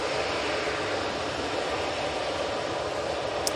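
Steady broadband jet engine roar from an Airbus A319 airliner at Manchester Airport, a continuous moderately loud rush with no talking over it.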